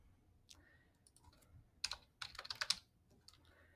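Keys clatter on a computer keyboard while login details are typed, a few scattered taps and then a quick cluster of clicks, close but quiet with no talking.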